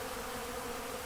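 Bees and other insects swarm around a pollen feeder, making a constant, dense buzzing drone that stays steady and moderately loud throughout the short moment, with no voices.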